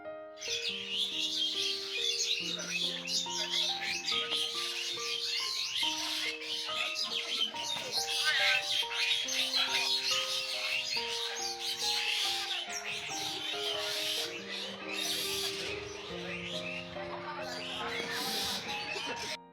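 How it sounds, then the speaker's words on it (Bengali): A flock of birds crowds a jackfruit tree, giving off dense, continuous chirping and twittering throughout, with melodic music playing steadily underneath. "পাখির কিচিরমিচির শব্দ"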